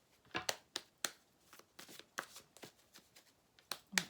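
Tarot deck shuffled for a reading, a string of crisp close card riffles and slaps in an uneven rhythm, heard alone without talk.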